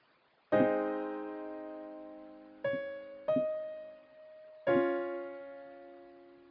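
Organ chords from the final section of a song, four sustained harmonic chords struck in turn, each ringing and slowly decaying, played alone with no talking.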